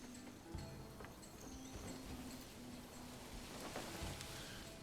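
Steady rain falls across a medieval village in Manor Lords, a dense, even hiss that runs throughout, with faint clip-clop and light bird calls mixed in.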